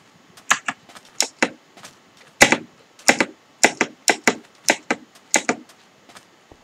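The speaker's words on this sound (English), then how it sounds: "So if you hear these clicking, this is my new keyboard." A new computer keyboard clicks in sharp separate taps and short bursts, close and crisp, with brief pauses between keystrokes and no voices.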